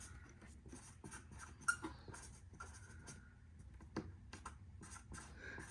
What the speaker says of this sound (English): And then just write a little note.